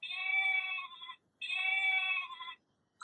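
A toy sound from a children's animal picture book plays a sheep bleat twice, each a sustained, buzzy electronic baa about a second long with a short gap between, then a brief sound cuts in at the end.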